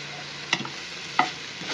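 Fried prawns and onions stir-fried in a pan, two quick scraping strokes of a spatula over a faint background sizzle, close and clear with no talking.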